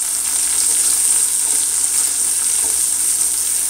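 Onion sizzling in a pan on a stovetop for a corn beef and ham breakfast hash, a steady close hiss and crackle that holds evenly throughout with no talking.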